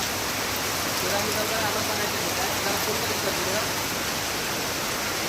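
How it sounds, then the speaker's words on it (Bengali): Steady rain pours down outdoors in a dense, even hiss that holds unchanged from start to finish, with no individual drops standing out. "কত সুন্দর বৃষ্টি হচ্ছে দেখাচ্ছি"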